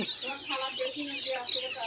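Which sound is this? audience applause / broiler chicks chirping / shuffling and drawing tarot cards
broiler chicks chirping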